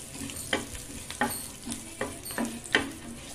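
Garlic cloves, black pepper and coriander seeds frying in a pan, with a low steady sizzle and a handful of sharp stirring scrapes and clinks spaced about a second apart, close and moderately loud.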